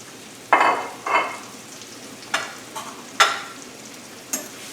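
Shallots, garlic and baby bella mushrooms hit a hot pan in a few sharp bursts of sizzle that quickly fade, with quiet frying between the additions.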